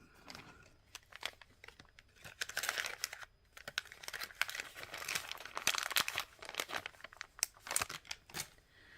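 Scissors snip through suede cord amid steady close crinkling and rustling of materials, a busy run of small crisp cuts and handling sounds with no talk.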